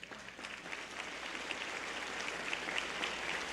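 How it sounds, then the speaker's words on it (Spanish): A church congregation applauds, a dense, steady roar of many hands clapping that swells slightly and stays constant, heard from a distance like rain, with no voices over it. "Denle un aplauso al Rey."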